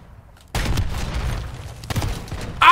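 Gunfire in the video game Modern Warfare 3 starts abruptly as a burst of loud, rapid shots, then pauses briefly before a second volley, ending with a sharp spike.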